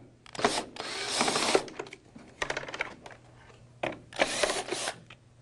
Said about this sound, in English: Just keep turning the screws until they come all the way out.